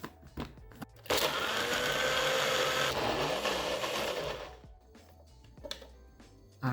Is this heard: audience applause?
no